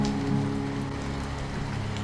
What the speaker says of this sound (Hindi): बारिश का मौसम है और अस्पताल के दीवारें नमी से भीग चुकी है।